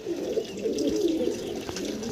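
Pigeons of a single house breed coo nearby in soft, repeated, throaty warbles that run continuously, with no talking over them.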